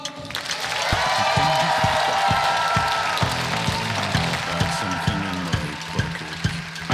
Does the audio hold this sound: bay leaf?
no